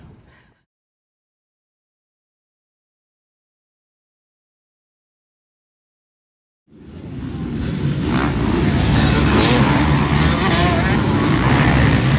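Motocross motorcycles, a Yamaha among them, race at a speedway and motocross reunion meet; after long silence, loud engines roar in suddenly and keep up a sustained, close, revving drone to the end.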